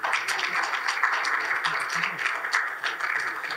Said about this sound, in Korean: 박사님을 박수로 환영해 주시기 바라겠습니다.